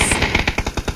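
M249 machine gun fire in the video game PUBG, a loud, rapid burst of roughly nine sharp shots at an even rhythm, close up and with no talking.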